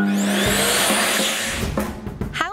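An electric hand dryer blows a loud, steady broadband rush of air that holds nearly constant before fluctuating and tailing off with a few whiny tonal sweeps near the end.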